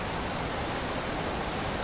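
A woodland waterfall at Craflwyn near Beddgelert, North Wales, pours in a continuous broadband rush, steady and fairly close with no voices.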